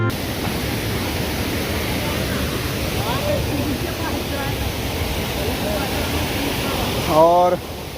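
Neer waterfall near Rishikesh, Uttarakhand, gives a constant broad rushing roar that fills the scene, and a voice speaks briefly near the end.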